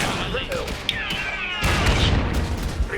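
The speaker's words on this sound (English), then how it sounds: "They're shooting here!" Gunfire and explosions in the Iron Harvest strategy game, with a burst of dense, continuous shooting and booms growing louder midway, under game voices and sound effects.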